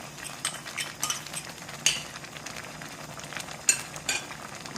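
Thick doenjang sauce with shiitake powder and flour cooks in a pot with a soft, steady sizzle, while a spoon stirs and clinks against the pot now and then. The sound is quiet and close, with no talking.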